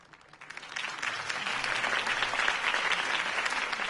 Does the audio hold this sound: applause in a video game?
yes